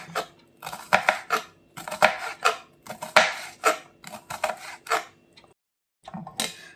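Bitter gourd chopped into small pieces on a board, with a quick irregular run of close knife taps and knocks, then a short pause before a final few cuts.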